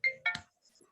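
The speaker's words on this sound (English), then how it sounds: "oh, sorry, my phone's just going, sorry." A mobile phone rings with two short bright electronic chimes in quick succession, close and clear, followed by near silence.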